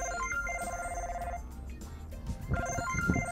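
A cell phone ringtone chirps in repeated short melodic bursts inside a car, fairly close and clear with a faint background hum.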